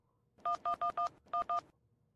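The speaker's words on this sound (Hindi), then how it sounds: "एक मिनट रुक जा, लगा रहा हूँ फोन" Six touch-tone beeps sound in two quick groups, four then two, clear and fairly quiet against near silence.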